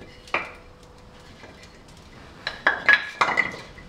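Small split logs go into a woodburner stove, giving one knock early on and then a cluster of wooden clunks and clatters near the end, close by, with no talk.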